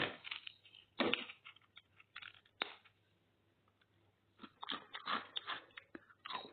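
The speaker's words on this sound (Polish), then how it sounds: "Słychać, jak chrupią?" Crunchy puff pastry and sugar dessert bitten and chewed close to the mic, with several crisp crackling bursts separated by quiet pauses.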